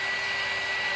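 A hair dryer blows steadily at close range, drying a sunflower craft project with a constant loud whoosh and no pauses.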